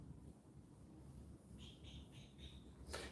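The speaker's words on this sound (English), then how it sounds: "Oh, that's a bird." A bird calling outdoors, a few short repeated chirps heard faintly at a distance over wind and low background noise, ending with a brief burst of sound.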